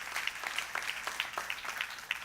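Audience applause at a community annual report event, a fairly faint but steady wash of many clapping hands with a few sharper individual claps standing out.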